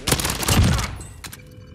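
Video game gunfire in a squad shootout, a rapid burst of automatic shots for under a second, close and loud, followed by a couple of isolated shots as the sound trails off.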